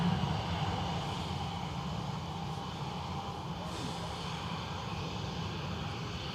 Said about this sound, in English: The sound of the planes might help you go back to sleep.